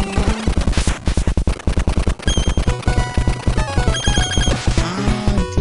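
Rapid, rhythmic enemy gunfire in the NES game Jackal, loud 8-bit bursts repeating in quick pulses, layered with chiptune tones throughout.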